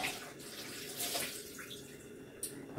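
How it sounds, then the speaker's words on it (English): Water being dumped from hot home-canning jars into a kitchen sink, a continuous splashing pour with a few surges, fairly quiet and heard alone without talk. "I am just going to dump the water that's in these jars out in the sink"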